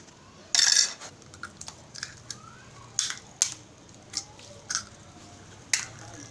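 Eggs cracked against a bowl for cookie dough: a sharp crisp crack, then a series of small taps, shell snaps and wet drips spaced over several seconds, close and fairly faint.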